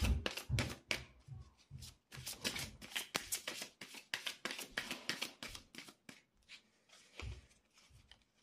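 Tarot cards being shuffled and drawn by hand make rapid riffling flicks and taps close up, in irregular bursts with short pauses and no speech.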